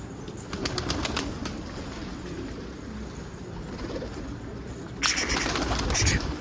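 A loose-feathered escaped pigeon, a yellow-pied bird, takes off and flies away outdoors, its wings flapping through steady background noise and getting louder near the end.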